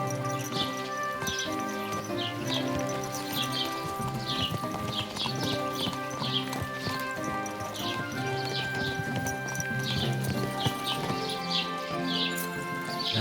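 Steady clip-clop of horse hooves in the medieval game Kingdom Come: Deliverance 2, a continuous rhythmic trot over layered ambient music with occasional bird chirps and a faint whinny.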